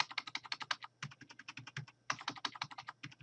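A computer keyboard is typed on during WeVideo timeline editing, with zoom shortcut keys pressed as a quick, steady run of close, crisp clicks and a short pause midway, with no voice.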